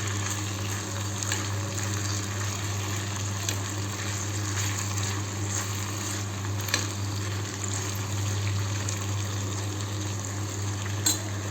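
Potatoes and okra being stirred in a cooking pan give soft scraping and sizzle under a steady low hum, with a few faint clinks, continuous and fairly quiet without talk.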